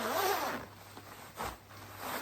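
Zipper on an ultralight men's rain jacket with a hooded drawcord hood is pulled in short, close raspy runs, quiet and heard without any talk.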